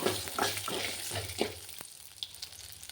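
Lentils and green chillies frying in oil for brinjal dosa batter, a loud crackling sizzle with several scraping stirs of a spoon in the first half, then a quieter hiss, close up.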